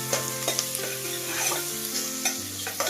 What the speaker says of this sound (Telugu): కొంచెం పప్పు ఇది వేయించాలి